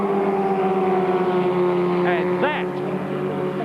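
Formula Ford 1600 race cars at full speed down the Hanger Straight at Silverstone during a 1986 championship final, a steady engine drone with a brief rising pass-by whine, under a commentator's voice.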